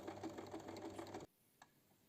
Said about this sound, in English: And now it's time to sew.